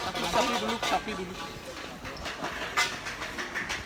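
A train rumbles past with a rhythmic clatter of wheels, heard steadily at moderate distance while people talk over it.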